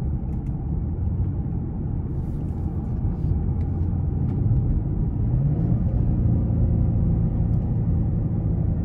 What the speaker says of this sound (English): I'm gonna go ahead and put in sport mode and gas it one more time.